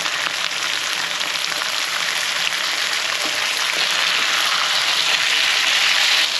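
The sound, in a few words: mutton liver sautéing in pan with tomato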